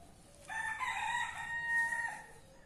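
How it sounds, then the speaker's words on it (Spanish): A rooster crows in the early morning, one long drawn-out cock-a-doodle-doo at moderate distance over quiet outdoor background noise. "de los pájaros y de los gallos."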